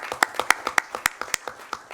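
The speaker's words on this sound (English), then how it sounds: "let's do a little clap for them" A small group claps in an uneven patter of sharp hand claps at a board of trustees session, fairly close, lasting a couple of seconds with no talking.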